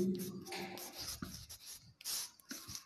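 Chalk scratches and rubs across a classroom board during a maths lesson, quiet and close, in uneven strokes broken by short pauses, with no talk over it.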